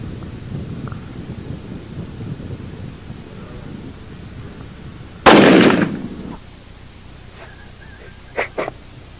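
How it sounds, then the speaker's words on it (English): A single loud, sharp blast from a brand-new .375 magnum rifle during an African spring buck hunt, ringing out briefly over steady outdoor background noise, followed later by a couple of smaller knocks. "this is a brand new rifle. It's a 375 and it kicks like a bay mule."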